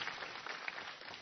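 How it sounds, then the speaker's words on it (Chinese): Applause from the audience at a Chinese rural variety show for a women's dragon dance team, a quiet, dense and steady patter of many hands clapping in the distance. "把掌声送给我们的这些女子舞龙队的优秀的大姐、大妹子。"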